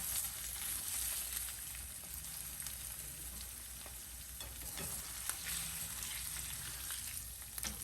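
Three bacon strips frying in a pan, a quiet continuous sizzle and fine crackle with occasional sharper pops, steady and close throughout with no talking.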